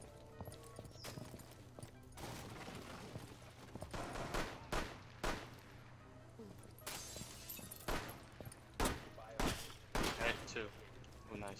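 Revolver and magnum gunshots in Rainbow Six Siege, a series of sharp, loud cracks in irregular bursts over a steady low hum, mixed with scattered clattering.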